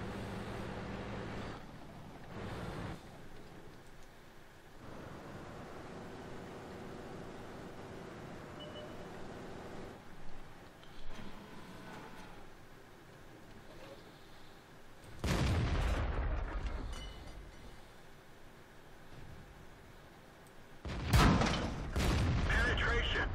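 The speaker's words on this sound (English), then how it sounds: "And there's the artillery." Artillery shells landing around a tank destroyer in World of Tanks, heavy booms and rumbling blasts hitting near 15 and 21 seconds over steady engine and battle noise, with smaller thuds earlier.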